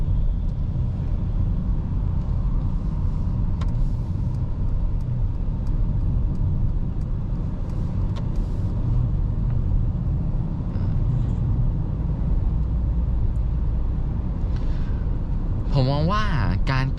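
A steady low rumble of tire and road noise fills the cabin of a Mercedes EQS 500 AMG Premium electric car on a rough road, with occasional faint bumps, and a voice starts speaking near the end.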